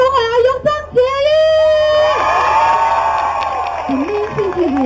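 A live audience at a 2012 Astro TV talent competition cheers, whoops and applauds loudly. High shouts rise over a dense, sustained roar of crowd noise that barely lets up.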